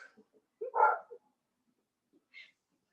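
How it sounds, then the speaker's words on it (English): A dog gives one short, close bark followed by a faint higher yip, with small soft noises around it and quiet gaps in between. "The dog is barking too loud."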